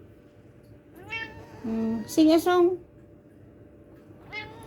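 A cat gives a few short, rising meows in quick succession at close range, between bits of a woman's coaxing speech.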